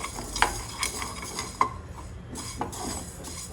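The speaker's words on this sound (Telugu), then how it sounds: "మెంతులు వన్ స్పూన్ ఆవాలు వన్ స్పూన్ జీలకర్ర ఇవి కొంచెం దూరగా వేయించుకుంటాం" Fenugreek, mustard and cumin seeds dry roast in a pan, giving soft scraping stirs and a few faint crackles and pops at close range.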